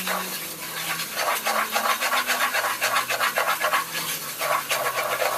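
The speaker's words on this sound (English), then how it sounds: "Make sure to use a utensil to scrape the sugar off of the bottom" A utensil scrapes caramelizing sugar off the bottom of a pan in a steady, rhythmic series of rough scraping strokes. The strokes sound close and fairly loud, with a faint sizzle underneath.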